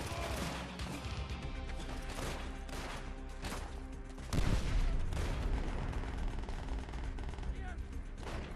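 Gunfire in the WWII shooter Call of Duty: World at War, a dense rattling stream of automatic shots with a heavier burst midway, carrying on under a player's talk over game noise.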